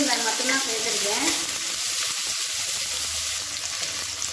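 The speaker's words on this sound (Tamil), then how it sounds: "இதோட மீடியம் சைஸாக ஒரு பெரிய வெங்காயம் நீளமாக நறுக்குனதை சேர்த்து வதக்கிக்கலாம்." Sliced large onions sautéing in a pan for chicken curry, a steady close sizzle with brief stirring at the start, no talk.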